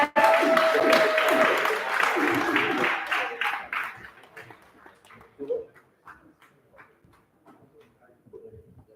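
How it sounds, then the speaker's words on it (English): An audience at an outdoor event breaks into a loud round of applause that fades away over a few seconds, leaving scattered faint sounds and voices. "Give him a round of applause."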